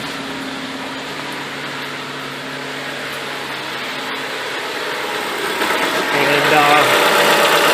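A Jeep Renegade engine idles with the air conditioning on max, a steady mid-pitched hum and light vibration that swells a little louder near the end, with a brief spoken word early on.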